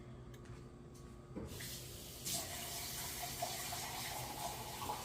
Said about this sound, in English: I'm going to put some more water.